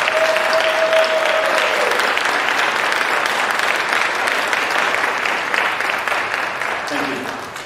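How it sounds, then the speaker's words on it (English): An audience at a Phi Theta Kappa induction ceremony claps in sustained, loud applause filling the room, with a few voices beneath it as the clapping slowly tapers near the end. "Please give them a round of applause."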